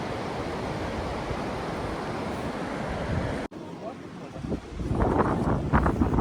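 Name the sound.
river flowing at night beside a campsite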